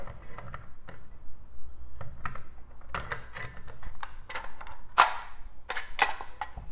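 New lock cylinder for a Mottura door lock being pushed into its hole in the door, giving close, irregular metallic clicks, taps and scrapes of varying loudness, with no speech.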